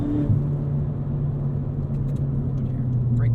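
A straight-piped 2017 Ford Fiesta ST engine and exhaust drone steadily while driving, a loud continuous rumble with a mild tonal shift and no speech.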